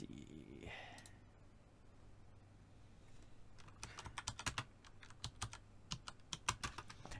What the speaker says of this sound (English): Just typing stuff out